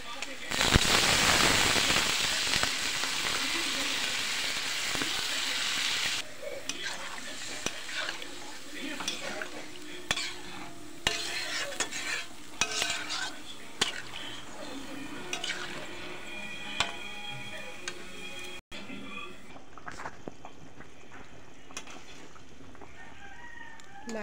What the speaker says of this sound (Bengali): মশলাটা ভাজা হয়ে গেছে, এখন আমি জল দিয়ে দেবো।